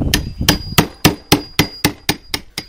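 Hammer and chisel striking a wooden log, about ten sharp, evenly spaced blows with a ringing wooden knock, close and loud with no talking.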